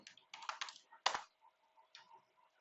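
Quick bursts of keystrokes on a computer keyboard, irregular clusters of clicks with a sharp louder tap near the middle and a few softer taps trailing off, close and alone.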